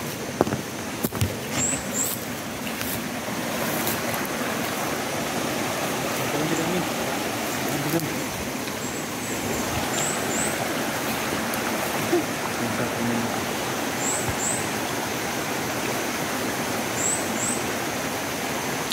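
A flowing stream fills the scene with a steady, broadband rush of water that stays even and continuous throughout, fairly close, with no clear talk over it.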